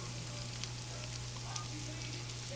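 Red onion rings fry in a hot pan, producing a soft, even sizzle with a few faint pops over a low steady hum, fairly quiet and without talk.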